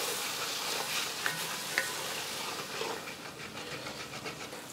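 Onions and spices fried with a spice paste in a pan for UP-style paneer butter masala. They sizzle and hiss steadily, with scraping stirring strokes and a few sharp clinks of the spoon against the pan.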